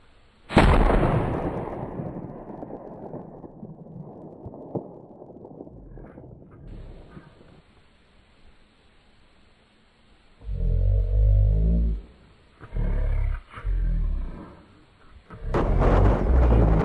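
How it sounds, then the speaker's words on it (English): During a hog hunt in a forest, a loud gunshot cracks and its echo rolls away slowly, followed later by several more heavy booming reports in quick succession. "more gunshots echo through the forest"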